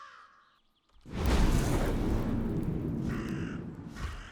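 A crow caws in the video game Lucius 3, a few raspy calls heard alone, preceded by a quiet lull and then a broad, steady whooshing wash of sound.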